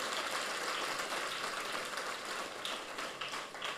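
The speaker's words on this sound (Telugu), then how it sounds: "అందుకే గట్టిగా చప్పట్లు కొడుతూ తల్లికి స్తోత్రం తెలియచేద్దాం." Congregation clapping in praise at a church feast for the Gunadala Mata festival novena, a dense, steady patter of many hands throughout, fairly faint and without voices.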